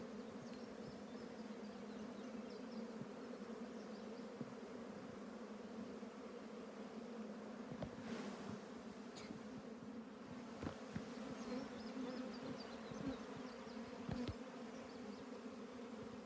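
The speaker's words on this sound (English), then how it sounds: "It's overflowing with bees here." Dense, steady buzzing of many honeybees in an open hive colony close at hand, a continuous droning hum with a few brief knocks and rustles and no talking.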